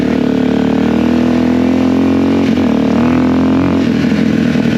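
A Suzuki DRZ 400 dirt bike engine drones loud and steady while riding, its pitch dipping and rising slightly as the throttle shifts, with constant wind rumble.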